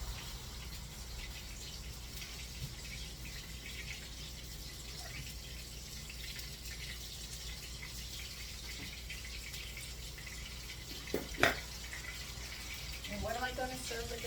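Tap water runs steadily into a kitchen sink as hands are washed after handling seasoned chicken nuggets, a low continuous wash with a couple of brief clatters near the end.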